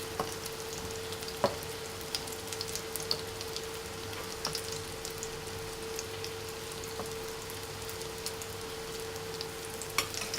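Chicken cutlets fry in oil over medium heat, giving a steady, even sizzle with a constant low hum beneath it and scattered sharper pops and crackles, and no voices.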